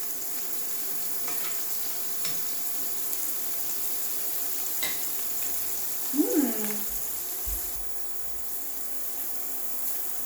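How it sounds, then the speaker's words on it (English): Hosta leaves frying in melted, boiling butter in a pan, a steady soft sizzle running throughout with a brief louder crackle near the middle. "We've got our butter sauteing, or melting and boiling. We're gonna add our hostas."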